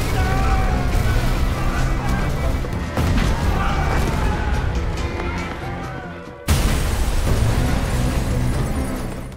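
An explosion in an action film. A dense, noisy rumble builds, then a loud broadband blast hits abruptly near the end and continues as heavy roaring debris.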